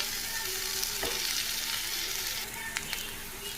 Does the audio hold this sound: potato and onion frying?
yes